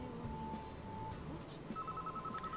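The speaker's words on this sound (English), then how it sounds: "the impersonal sound of the phone, which cared not about circumstances" Telephone ringing in the visual novel game Aoi Shiro, a steady electronic ring tone that starts partway through, fairly faint over a soft musical background.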